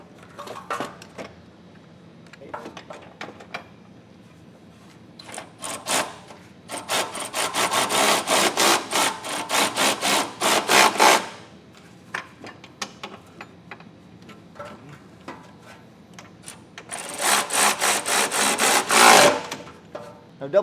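An electric ratchet with a 3/4 inch socket snugs down bolts on a B&W Class III trailer hitch, buzzing in several bursts of rapid clicking separated by quieter pauses with faint handling noise.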